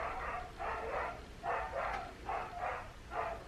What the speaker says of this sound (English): That's next door's dog.